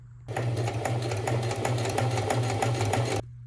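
Sewing machine top stitching a shirt collar: a steady, fast mechanical whir with rhythmic needle ticking, running close for about three seconds before stopping abruptly, no voices.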